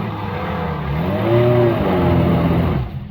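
A Suzuki off-road vehicle engine revs up loudly and close, the pitch climbing and holding before dropping off at the end.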